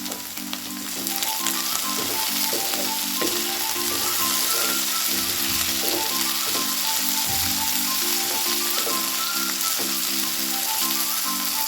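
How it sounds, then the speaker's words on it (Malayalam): Ivy gourd with curry leaves sautéing in a pan over a high flame, a steady loud sizzle and crackle running throughout with occasional stirring scrapes, beneath a faint harmonic tone. "ഹൈ ഫ്ലെയിമിൽ ഇട്ടിട്ട് ഒന്ന് വഴറ്റിയെടുക്കുക"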